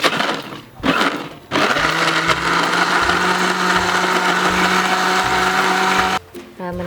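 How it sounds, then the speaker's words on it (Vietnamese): A few knocks, then a blender pureeing salted egg sauce ingredients with a loud, steady whir for about five seconds before it cuts off. "Rồi bây giờ các bạn sẽ đi xay nhuyễn nha"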